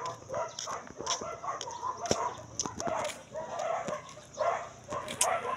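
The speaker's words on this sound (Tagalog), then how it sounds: "Grabe ka dami ng aso." Many dogs bark and yip repeatedly at moderate distance, overlapping in an irregular chorus with some whimpering mixed in.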